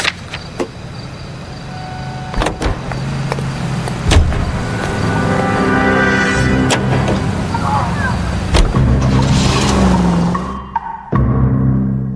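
A car drives in L.A. Noire with a steady engine rumble under sharp knocks and clunks. A brief whooshing passes near the end, then a quick cutoff.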